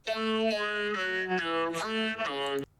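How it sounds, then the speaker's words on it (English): A voice pitch-shifted deep into a low, droning, robotic Phantom Freddy character tone, with several drawn-out syllables and no natural breaks. "typical deep Freddy voice"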